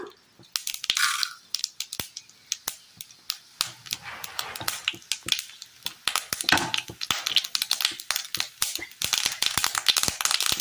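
Mustard seeds pop and splutter in hot coconut oil in a pan on the stove while a Kerala sardine curry is being made. The loud, close crackling is rapid and irregular and grows denser as it goes on.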